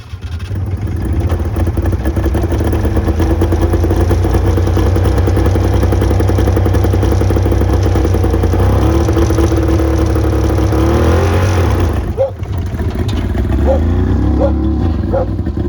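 A 1960 SAAB 93F two-stroke car with a temporary bicycle-cable clutch, its engine buzzing and droning loudly and steadily at close range as it drives around, with a brief dip and a few clanks near the end.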